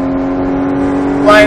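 Porsche Cayman GTS engine on a race track hot lap at Speed Vegas, droning steadily through a gear, then rising sharply as it accelerates at the end.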